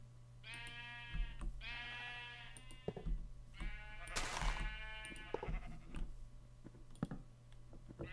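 Sheep bleat in a video game, several clear, wavering calls in a row over a low steady background hum, with faint clicks between them.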